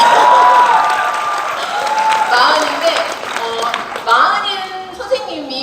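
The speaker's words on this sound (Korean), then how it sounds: "왜 박수 안 치세요?" A crowd at a company rally claps and cheers briefly, the applause mixed with scattered shouts and laughter and overlapped by a speaker's voice that continues talking over it.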